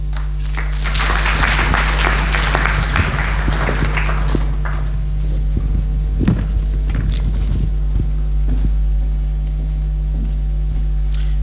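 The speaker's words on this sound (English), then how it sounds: "a big round of applause again to those that have been awarded for" An audience claps loudly for award winners at a university innovation week event, sustained applause over a steady hum, fading toward the end with some footsteps.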